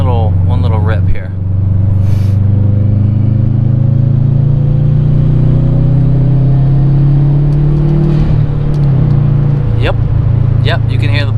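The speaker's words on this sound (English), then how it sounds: "You can hear the turbo sort of spooling up." A 2013 Subaru WRX hatchback revving hard from inside the cabin, a loud rising engine drone with turbo spool building and a sharp blow-off hiss near the end, someone talking over it.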